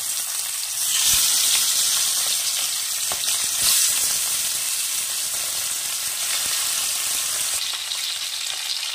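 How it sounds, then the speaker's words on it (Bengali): Khoira fish frying in hot oil give a loud, steady sizzle with crackling pops, continuous and close. "প্রথমে মাছগুলোকে ভেজে নেব ভালো করে"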